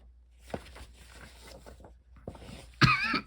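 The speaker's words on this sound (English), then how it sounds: "Hack, hack, cough." Several close, dry coughs and throat-clearing sounds come in short bursts, quiet at first and then louder near the end, with a rustle of clothing in between.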